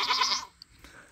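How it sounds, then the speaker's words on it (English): A goat lets out a single wavering bleat, loud and close, that cuts off after half a second into near quiet with a couple of soft clicks. "Halo, these are not your goats."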